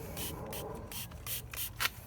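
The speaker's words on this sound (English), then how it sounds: "So soapy water, sprayed in here, sprayed into the gap here at the top on both sides," Soapy water is sprayed from a spray bottle into the bead gap of a Honda C125 Super Cub rear motorcycle tire, giving a rapid series of short, close hissing bursts in quick succession.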